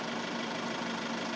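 A parked car with its engine left idling at a street kerb in Vienna, a steady low mid-frequency hum with faint rattle, close and continuous, no talk.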